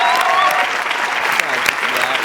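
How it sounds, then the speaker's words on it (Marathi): Loud, dense applause from an audience, a steady wash of clapping that runs through the whole short stretch, close and continuous. "जोरदार टाळ्या झाल्याच पाहिजेत"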